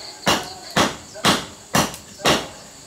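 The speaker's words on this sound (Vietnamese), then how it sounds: "Em chặt mấy phát nữa cho các bác xem." Machete blade striking very hard wood, five sharp chops spaced about half a second apart, loud and close with brief ringing decay after each impact.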